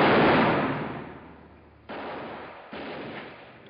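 A gunshot rings out in an old Western comedy film, a loud sharp blast with a long decaying tail followed by two more quicker shots, heard alone on a thin, band-limited soundtrack.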